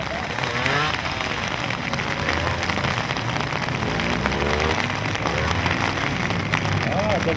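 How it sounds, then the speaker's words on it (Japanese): Heavy pouring rain falls at an outdoor motorcycle gymkhana in Ehime, a dense continuous hiss of downpour that is loud and steady throughout, with a bike's engine faintly mixed in and no clear talk. "さあ、土砂降りの雨の中、"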